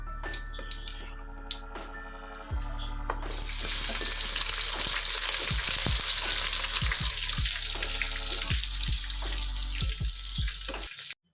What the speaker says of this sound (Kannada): ನೀರುಳ್ಳಿ ಲಾಯ್ಕಡೆ ಫ್ರೈ ಆವಡು ಗೋಲ್ಡನ್ ಕಲರ್ ಬಣ್ಣ ಮುಟ ಲಾಯ್ಕಡೆ ಫ್ರೈ ಮಲ್ಪೊಡವೇನು